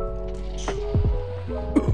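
Splashes in the video game Minecraft, a few short wet squishing plops in quick succession over a low tonal background, fairly close.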